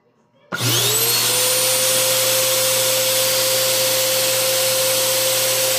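A vacuum cleaner, just repaired after a no-power fault, switches on after a brief quiet moment. It then runs loud and close with a steady high whine and roar, and no one speaks.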